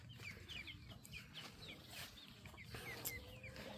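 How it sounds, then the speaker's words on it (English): A hen clucks softly with her single young chick close by, the short clucks and thin high peeps repeating steadily over a low, constant background rumble. "So here's Hennifer with her one chick."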